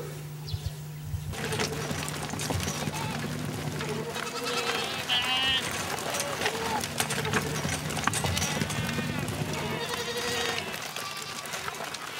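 Goats, part of a herd of about a hundred, bleat repeatedly on a desert farmyard, with overlapping calls near and far alongside hoof clatter and a low steady hum.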